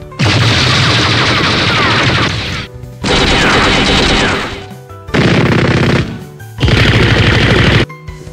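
Bursts of animated chain gun machine gun fire in four long, loud sustained volleys separated by short gaps, dense rapid rattling with no talk.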